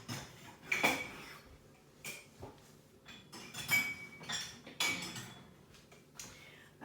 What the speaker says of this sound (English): The teapot is made of glass, it's broken, so I keep on using it.